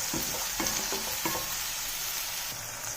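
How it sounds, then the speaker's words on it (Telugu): Onions and green chillies frying in oil, with a steady loud sizzle broken by several scraping stirs of a utensil in the pan, with no talking. "ఒకవేళ మనకు ఆయిల్ కనుక సరిపోకపోతే ఇంకా కొంచెం ఆయిల్ని యాడ్ చేసుకుని ఉల్లిపాయ పచ్చిమిరకాయ అనేది వేపుకుందాం."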